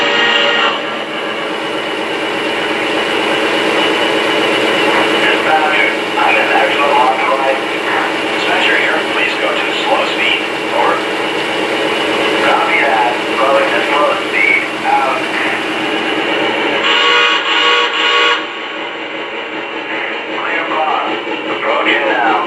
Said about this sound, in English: it will randomly give you a grade crossing sequence of 2 longs, a short, and a long whistle blast